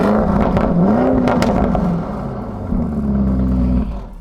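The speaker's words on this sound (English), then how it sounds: "It is this ultra-light titanium exhaust" Lamborghini Urus Performante with an ultra-light titanium exhaust, engine revving loudly up and down close by, the pitch rising and falling twice with a brief dip between.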